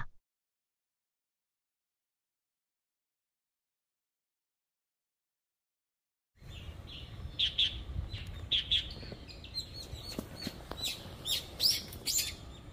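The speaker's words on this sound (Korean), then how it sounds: "명부전 앞 감나무에 달려있는 홍시들을 새들이 부지런히 먹고 있는 모습이 정겹습니다" Birds chirp and tweet in repeated bright bursts while feeding on ripe persimmons hanging from a tree in a snowy winter temple yard, after several seconds of silence, with light background rustle.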